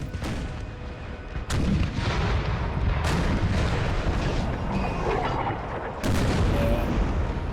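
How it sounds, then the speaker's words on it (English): Artillery fire in a Napoleon Total War battle over a hilltop summit, loud booming reports landing at intervals over a dense, continuous battle din of crackling musketry. "That artillery is not in the best position."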